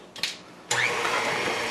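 An electric mixer whirs on abruptly after a short scrape, then runs at a steady, loud drone while mixing sour cream muffin batter up close.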